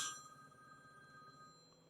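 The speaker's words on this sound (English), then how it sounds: "My phone's ringing and I don't want to answer it." A phone rings briefly during a Canik Mete SF pistol cleaning session, a faint electronic tone burst at the start with steady tonal lines lingering through the rest of the clip, with no talking.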